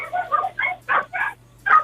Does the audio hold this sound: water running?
no